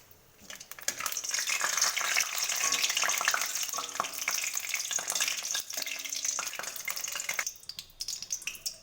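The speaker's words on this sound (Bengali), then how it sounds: "ঘি গরম হয়ে গেছে, এর মধ্যে তেজপাতা দিয়ে দেব।" Bay leaf dropped into hot ghee sizzles and crackles loudly and steadily for several seconds, a continuous frying hiss with small pops, tapering slightly near the end.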